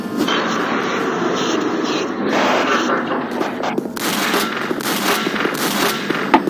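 Rapid gunfire in Doom 3, a loud continuous stream of shots and crackling bursts for several seconds, close and harsh, with no talking.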